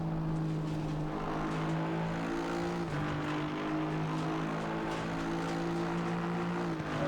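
An Aston Martin V8 GT3 engine in the racing game Assetto Corsa hums loud and sustained at steady revs, with abrupt drops in pitch at two points as it downshifts under braking.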